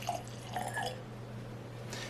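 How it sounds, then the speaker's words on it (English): Angel's Envy bourbon, finished in ruby port casks and bottled at 43.3% ABV, is poured into a glass, giving a faint, quiet trickle with a few soft drips. No one speaks. "Now, let's pour her in the glass."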